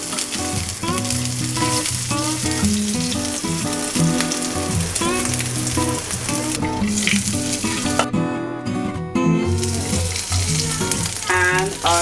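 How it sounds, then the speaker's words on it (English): Asparagus and bacon wraps sizzle over a slow flame in spray oil, a dense, steady frying crackle close by that runs continuously under faint background music. "now we're going to add the asparagus and bacon. And we're going to cook the same on slow flame."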